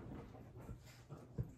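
A dog whimpers softly while crawling among pillows indoors, a few faint, short whines and snuffles close by, with no talking.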